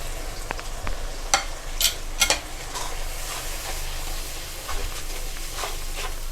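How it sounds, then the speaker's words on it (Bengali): Spices sizzle in a pan as salt, sugar, turmeric and Kashmiri chili powder are sautéed for a taro dum, a steady frying hiss broken by a few sharp stirring scrapes and clinks. "এবার এটাকে কষতে দেব ভালো করে"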